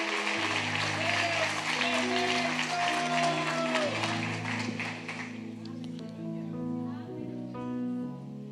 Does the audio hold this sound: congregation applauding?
yes